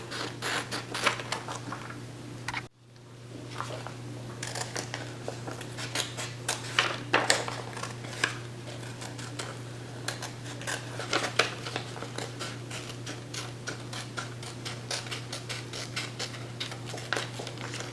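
Scissors snip through embroidered fabric and paper while a junk journal is made, giving a steady run of close, crisp cuts and rustling over a low background hum, with a brief silent gap near the start.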